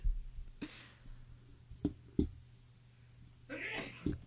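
A single quick sneeze stands out from a quiet room, with a few soft knocks and clicks scattered before it.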